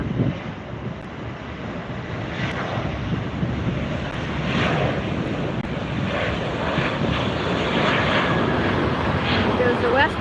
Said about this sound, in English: Here goes the United lifting off on the other side.